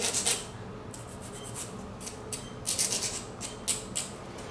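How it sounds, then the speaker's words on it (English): Short, quick scraping strokes of a nail file on the top of an acrylic nail, close and fairly quiet, coming in uneven bursts with brief pauses between them. "And also filing the top here."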